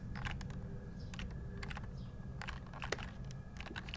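Sharp, irregular clicks tap out across a quiet indoor room as a mouse picks smiley faces in a puzzle game, the clicks coming in uneven clusters over a low steady hum.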